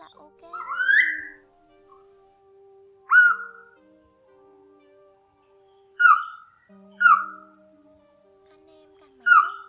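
A grey-headed pitta gives clear, whistled calls, five separate short notes spaced a few seconds apart, each rising then falling, against a quiet background.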